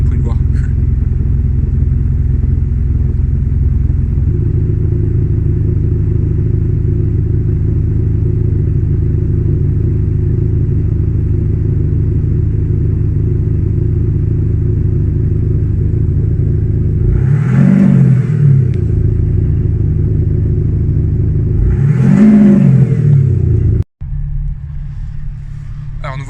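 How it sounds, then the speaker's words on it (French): An Audi SQ5 with a 313 hp V6 TDI diesel idles with a deep, steady rumble at close range. Partway through, two short revs swell and fall away, and then the note drops abruptly. No one speaks. "On va assister au démarrage du V6. Ah, c'est profond et puissant là."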